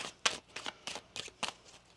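Tarot cards are riffled in a quick series of about six crisp, papery bursts, each short and close, with brief quiet gaps between.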